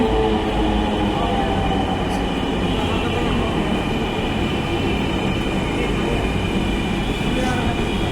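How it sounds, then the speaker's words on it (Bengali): Loud, continuous rumble of a metro train pulling in at a station, with metallic rail noise and a faint squeal running throughout. "চলে এসেছে আমাদের ট্রেন।"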